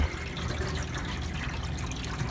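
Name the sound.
Ice-O-Matic ice machine water pump pumping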